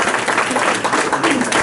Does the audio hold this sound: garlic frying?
no